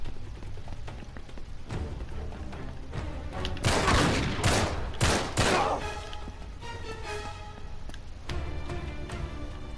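Assault rifle fire in the video game Uncharted 3: a few scattered shots, then dense bursts in the middle, with sharper single reports trailing off toward the end.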